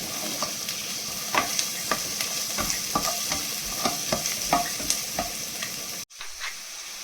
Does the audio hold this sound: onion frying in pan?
yes